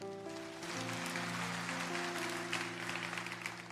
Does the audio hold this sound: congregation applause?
yes